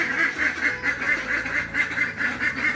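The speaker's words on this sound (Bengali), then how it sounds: "সকালবেলা হাঁসগুলোকে খুলে দিল মানে হাঁসের ঘরের দরজা খুলে দিল" Ducks let out of their house in the morning quack close by in a steady, rhythmic series of nasal calls, about a dozen in quick succession with no talking.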